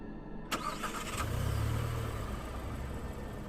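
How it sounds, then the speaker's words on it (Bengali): An ambulance engine cranks briefly and catches, then settles into a steady low idle that holds loud and close to the end, in a horror audio drama setting. "গাড়ি স্টার্ট হলো।"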